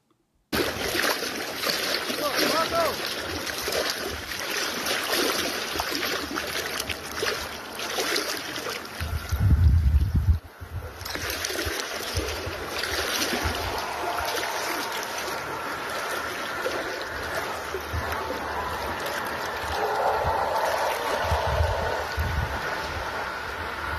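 A drone boat's motor hums steadily over water with wind buffeting the microphone, a louder rumbling burst partway through and faint splashing.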